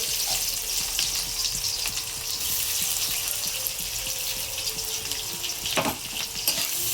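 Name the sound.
onions frying in hot oil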